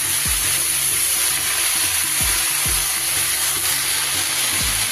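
Bottle gourd leaves frying with mixed vegetables in a pan, stirred: a constant hiss of oil under a regular rhythm of low scraping and knocking strokes from the spatula, about one every half second.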